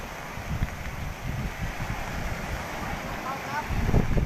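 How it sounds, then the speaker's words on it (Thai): Large sea waves surge and crash at Mac Bay during Storm Pabuk, a continuous loud roar of surf and gusting wind with rumbling bursts of breaking water close by. "คลื่นลูกใหญ่มากเลยครับ"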